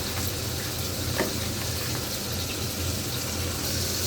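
Beaten egg mixed with onion fries in oil in a karai wok, filling the space with a thick, steady sizzle that stays close and even throughout.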